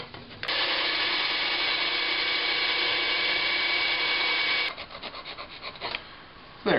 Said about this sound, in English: For that, I think I'll use the bandsaw.